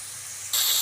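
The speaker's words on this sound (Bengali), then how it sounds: "আমি আলুটা হালকা করে ভেজে নেব" Potatoes dropped into hot oil in a pan for a home-cooked fish curry, a bright sizzling hiss that jumps sharply louder halfway through and stays steady.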